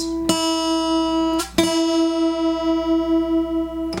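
A sustained note on an out-of-tune guitar string rings out, struck twice, with a slow pulsing warble in its tone as it decays.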